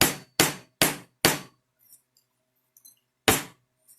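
A rawhide mallet flattens metal pieces for a Halloween kitty pendant: four sharp, evenly spaced, loud strikes, a pause with faint small taps, then one more hard blow, all near and crisp.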